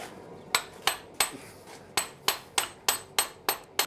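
A blacksmith hammers hot metal to flatten and upset a bolt head: about ten sharp, ringing strikes in a steady, fairly quick rhythm, close by and alone without talk.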